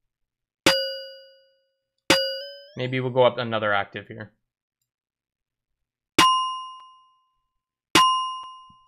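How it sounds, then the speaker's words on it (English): Four sharp synthesized bell-like rings, layered on a snare sample, strike separately with bright metallic tones that fade over about a second each, and someone speaks between the second and third hits. "it's gonna play a bell like that sound"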